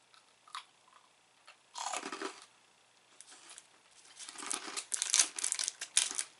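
A peanut rice-crispy snack from Tokyo is crunched up close in a few bursts of crisp crackling, growing denser and louder toward the end.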